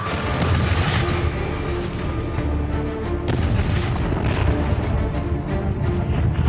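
Deep booming blasts from medieval cannons roll continuously, heavy and rumbling, with no voices.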